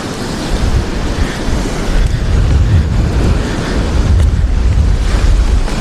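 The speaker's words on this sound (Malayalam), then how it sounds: "പുഴൻ്റെ ഭാഗത്തേക്ക് തിര അടിച്ച് കയറിക്കൊണ്ടിരിക്കുകയാണ്" Surging waves push up a flooded river in heavy Kerala monsoon rain, making a loud, continuous churning roar with wind buffeting the microphone throughout and no talk.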